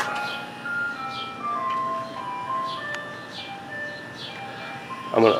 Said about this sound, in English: I'm gonna sit here and wait for the ice cream truck to go by, so you don't hear me.